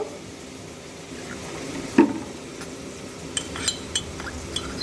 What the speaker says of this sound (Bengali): কর্নফ্লাওয়ারটা একটু জল দিয়ে গুলে নেব